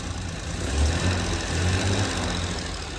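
A Jaguar E-Type engine runs steadily at idle, rising slightly in pitch and loudness as it is revved gently a couple of times, then settling back.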